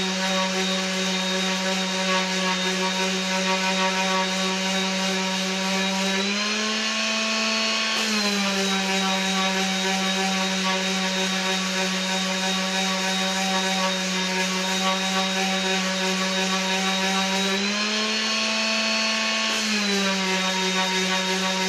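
Power sander running with 80 grit sandpaper, a loud continuous whine held steady, rising slightly in pitch twice as the load eases, close and with no talk.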